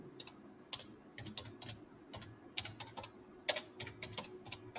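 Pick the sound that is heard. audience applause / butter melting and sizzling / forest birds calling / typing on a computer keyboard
typing on a computer keyboard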